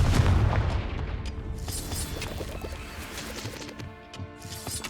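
Confringo fire spell blast in Hogwarts Legacy: a deep, booming impact right at the start that fades into a rumbling, crackling tail, with a few faint later pops and bursts.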